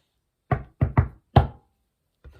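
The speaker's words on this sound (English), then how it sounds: "And then there was a knock at the door." A storybook-style knock at a door: a cluster of four sharp raps followed by two fainter taps, crisp and close against silence.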